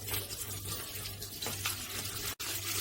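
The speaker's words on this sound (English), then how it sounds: "Just pour it through a strainer." Fermented grape wine poured through a strainer to separate yeast and pulp, a steady close splashing trickle of liquid running continuously, with a brief sharp knock near the end.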